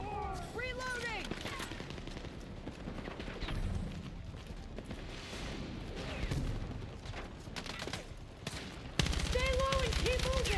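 Gunfire rattles through a Battlefield 6 campaign battle in bursts of rapid shots, mixed with game voices, music and other combat noise.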